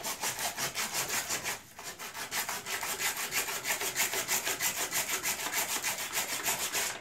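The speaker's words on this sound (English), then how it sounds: "I've also got here some 150 grit sandpaper, and we'll see how this holds up here." 150 grit sandpaper rubbed briskly over a finished coated surface in steady back-and-forth strokes, a close, rhythmic raspy scratching with one brief pause near the start.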